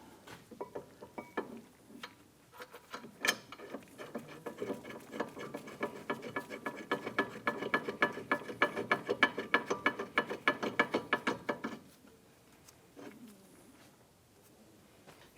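A ratchet clicks in fast, repeated strokes while the lower brake caliper bolt is tightened on a 2011-2021 Jeep Grand Cherokee during a front caliper replacement, the rapid clatter swelling for several seconds before stopping, then a few faint clicks.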